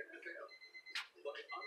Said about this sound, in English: That was my timer going off to go check on my grill